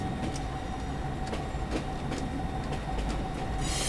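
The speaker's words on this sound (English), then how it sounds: "let me go move the train so everybody can go get to the front real quick" A train rolling along in the video game Foxhole, a steady rumbling drone with faint rhythmic clatter throughout, close and continuous, with a brighter hiss swelling at the very end.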